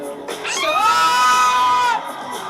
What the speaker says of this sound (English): You can hear the crowd too.